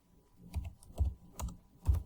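Someone types a message on a computer keyboard in quick, uneven keystrokes, four louder clusters of clicks close to the mic with light taps between them, and no talking.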